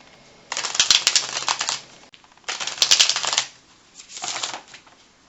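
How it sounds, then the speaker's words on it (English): Tarot cards being shuffled and picked by hand, three bursts of crisp riffling and flicking with short pauses between, close and fairly loud, no talking. "Right now, I am going to pick the card for the ordinary world."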